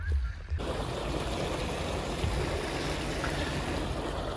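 Irrigation water gushes into a farm field, a loud, constant rushing flow heard close up, starting after a brief moment of quieter sound.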